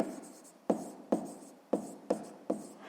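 Pen on paper writing out a sixth-grade math word problem about apples, a soft scratchy rasp close by broken into five or six quick strokes with sharp starts, alone without talk.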